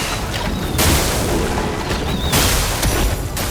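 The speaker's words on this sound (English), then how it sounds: "And then into sack attack explosion." Loud, dense booming blasts from a sack attack explosion in the PC video game Clair Obscur: Expedition 33, with two sharp broadband bursts rising out of continuous roaring combat effects.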